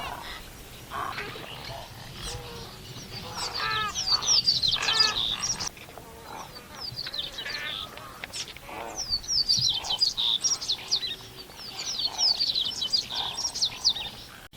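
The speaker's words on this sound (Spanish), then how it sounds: "Aquí la única presente es la gaviota capucho café." Brown-hooded gulls and other birds calling at a stream, bursts of sharp chirps and squeaky calls coming and going over a low outdoor hiss, fairly close.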